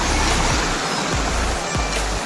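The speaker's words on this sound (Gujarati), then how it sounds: "આવા ઝરણા છે ને આવું પાણી આવે છે" A small countryside stream near a village pond flows in a steady, close rush of water, punctuated by a few dull low thumps.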